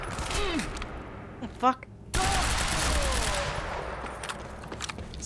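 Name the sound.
gunfire from the video game Quantum Break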